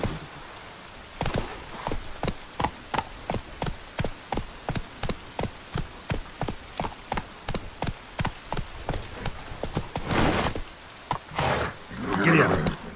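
Geralt's horse Roach trotting in The Witcher 3, a steady run of clear hoof clip-clops at an even rhythm, close and prominent, with some louder rustling and movement noise near the end.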